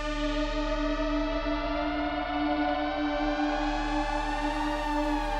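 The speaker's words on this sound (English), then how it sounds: "it creates this kind of like pitch gliding effect for part of the sound" Mini V synth lead holds a dense, buzzy sustained tone while its second oscillator's pitch glides up and back down, then settles, with effects-laden echo and chorus, steady and alone.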